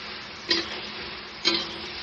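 Okra and potatoes being stir-fried in a pan, a soft steady sizzle with two distinct scraping stirs about a second apart, close and without talk.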